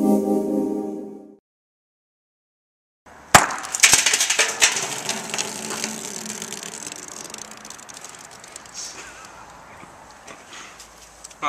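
Glass shatters loudly after a brief silence, a sharp crash followed by scattered tinkling fragments that fade out over several seconds, during a comedic hammer infomercial.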